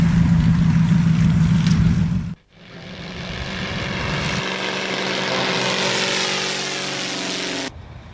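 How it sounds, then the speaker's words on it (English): A Fletcher topdressing aircraft spreading fertiliser over steep farmland drones loudly overhead, its propeller engine roaring steadily, briefly dipping, then building again as it passes close by. "The Fletcher is up and down every few minutes"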